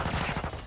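Rapid gunfire rattles through a Call of Duty: Modern Warfare II team deathmatch on the holiday Shipment map, a dense, continuous burst of shots filling the short moment with no talk over it.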